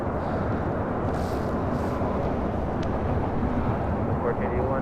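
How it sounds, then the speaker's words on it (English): A United Boeing Dreamliner rolls along a runway at LAX, a steady, loud broadband rumble of jet engine and wind that holds evenly throughout with no breaks. "We've got that United Dreamliner now rolling down to 25 right"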